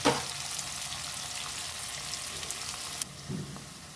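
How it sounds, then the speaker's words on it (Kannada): Chopped onions frying in a pan for karabath, a continuous bright sizzle with faint stirring scrapes, close and steady, easing slightly near the end with a short clatter. "ಈರುಳ್ಳಿನ ಚೆನ್ನಾಗಿ ಫ್ರೈ ಮಾಡ್ಕೋಬೇಕು."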